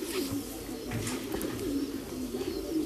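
Pigeons cooing before bath time, repeated soft low coos in a steady rolling rhythm, close and clear over faint background noise.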